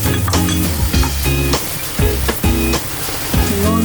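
A pinch of turmeric powder drops into a hot frying pan with sizzling oil, a loud close crackle broken by repeated clattering stirs of a utensil against the pan.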